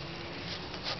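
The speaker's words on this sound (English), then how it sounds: "I see the bees swarming around them." Bees swarming around organically grown squash plants in a garden, a faint, brief buzzing hum under light outdoor background noise.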